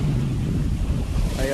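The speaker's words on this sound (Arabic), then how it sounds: "الموج يلعب الثلج" Ocean waves wash and churn ice chunks on a black sand beach in Iceland, a steady close roar of surf with strong wind buffeting the microphone, no voices.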